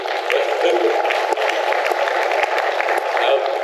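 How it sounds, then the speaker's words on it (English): Steady, dense clapping from an event audience at the Sheraton Waikiki in Honolulu, sustained at an even level throughout without a break. "round of applause to all of you."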